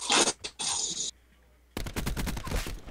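Bursts of rapid automatic ICR-7 assault rifle fire in Black Ops 4, loud and close: two short volleys, a brief pause, then a longer sustained burst.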